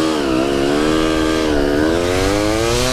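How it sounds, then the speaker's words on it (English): A CR250 two-stroke engine swapped into a Honda Grom revs loud and close, its buzzing rising and dipping in pitch as the throttle is worked, with no talking over it. "Down in Florida, riding a two-stroke Grom in March."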